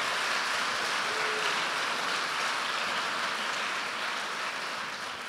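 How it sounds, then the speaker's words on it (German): Audience applause after a host's call to clap for a crochet effort at a cultural talk evening: steady dense clapping from a crowd, filling the whole stretch at an even level and easing slightly toward the end, with no voices over it. "Vielleicht einen kleinen Applaus schon mal dafür"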